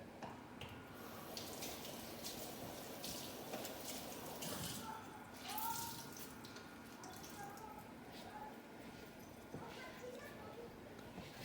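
Kitchen tap water runs steadily to soak a towel while pizza dough is being made, a continuous soft rushing wash that stays even throughout.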